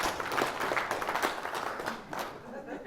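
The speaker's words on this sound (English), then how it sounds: "Jamie, my assistant, give him a round of applause." An audience gives a fairly quiet round of applause for an assistant during a small business marketing talk, with scattered, distinct claps over a few seconds and a voice speaking over them.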